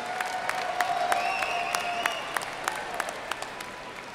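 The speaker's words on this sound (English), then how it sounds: "Please give a round of applause for the 2017 Dollinger Master of Real Estate Development graduating class." Applause for the 2017 Dollinger Master of Real Estate Development graduating class at the USC Price commencement ceremony: an even, continuous round of clapping from a large crowd, heard at a distance and fairly soft, with a few sharper claps standing out.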